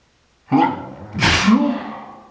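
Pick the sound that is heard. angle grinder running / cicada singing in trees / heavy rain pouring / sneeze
sneeze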